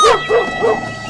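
A dog barks three times in quick succession, sharp yips close to the microphone, then goes quiet.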